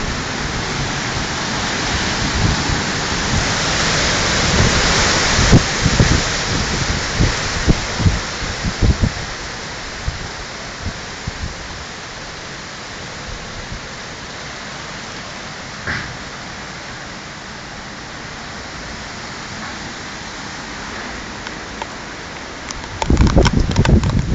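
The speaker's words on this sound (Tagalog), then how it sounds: "ang lakas na ng ulan" Steady heavy typhoon rain pouring down as a constant hiss, with bursts of louder rattling and clatter at the start and again at the very end.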